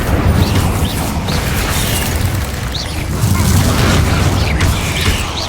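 Incendio fire spell cast during combat in the video game Hogwarts Legacy, a dense roaring burst of flame with rumbling booms and crackles over a loud continuous battle din.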